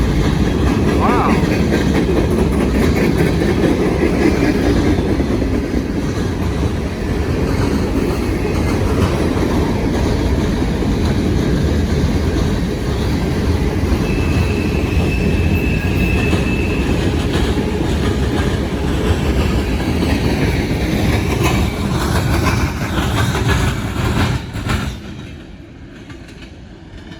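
A long freight train hauled by a single locomotive roars past at speed, loud and close, with a steady rumble and rapid clickety-clack of wheels over rails, then cuts off abruptly into sudden quiet at the end.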